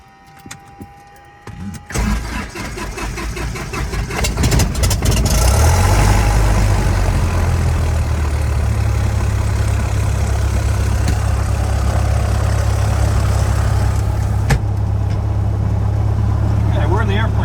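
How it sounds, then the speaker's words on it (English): A small propeller airplane engine cranks over, catches and settles into a loud, steady low-pitched run, close by and continuous to the end after a few seconds of quieter cranking. "The engine's running."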